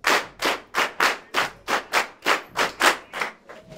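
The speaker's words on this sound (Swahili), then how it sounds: "Makofi tena." Applause at a Swahili arts performance by pupils of Our Lady of Fatima school: a steady rhythmic group clapping, about three claps per second, even and close, with no talk over it.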